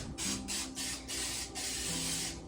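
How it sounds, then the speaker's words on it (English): Several short bursts of aerosol cooking spray hissing close by into a cake pan, broken by brief pauses, then one longer continuous spray. "I'm going to give my cake pan a good coating of cooking spray."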